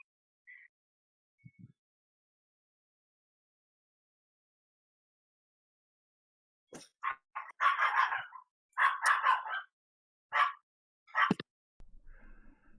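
A dog barks in several short, close bursts in the second half, after a quiet stretch with only a few faint, scattered noises.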